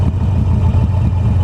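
Harley-Davidson XL883N Sportster riding at a steady pace, with a continuous low engine drone plus faint transmission clatter and whine blended into wind noise. The sound is loud and unbroken, with no talking.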